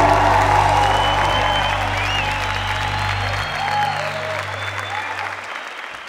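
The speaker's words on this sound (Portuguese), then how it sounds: "E aplauda o Senhor." A crowd applauds at a New Year's camp religious music show in Cachoeira Paulista, steady clapping over a held musical chord that fades out partway through, leaving the applause gradually thinning toward the end.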